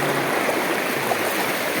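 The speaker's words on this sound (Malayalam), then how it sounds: "ഇവിടെ നല്ല ഒഴുക്കും കാര്യങ്ങളൊക്കെ ഉണ്ട്" Strong current flowing in a small river fishing spot, a continuous close broadband rush of water with steady loudness and no pauses.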